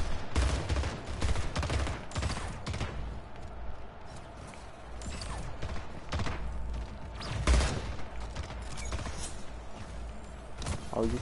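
Shotgun gunfire in the Splitgate video game, a rapid string of sharp blasts and thumps with mechanical clatter, fairly faint and steady throughout.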